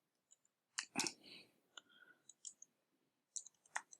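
Computer mouse clicks during a software demonstration, a scattering of sharp, close, quiet ticks with a small cluster near the start and a few more toward the end, heard alone without talking.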